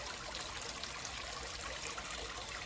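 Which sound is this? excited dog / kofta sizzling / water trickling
water trickling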